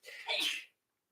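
A single close sneeze, a short breathy intake followed by a hissing burst that cuts off abruptly into silence.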